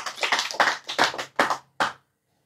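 Audience at an Islamic study gathering claps in short rhythmic bursts, several quick rounds of hand clapping close and loud, stopping abruptly before a moment of silence.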